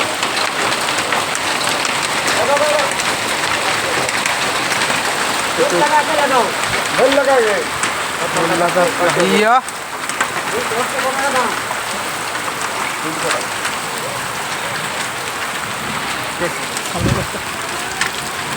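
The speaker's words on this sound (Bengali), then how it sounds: "প্রচণ্ড শিলাবৃষ্টি হচ্ছে" A heavy hailstorm pounds down at Tilaboni, Raghunathpur, as a dense, steady, close wash of pattering impacts that runs the whole time while several people talk over it.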